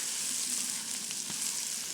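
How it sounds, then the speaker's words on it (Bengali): Onions fry in a pan until reddened, in preparation for a desi chicken curry, giving a steady close hiss and crackle of sizzling oil with no talking. "পেঁয়াজ লাল করে"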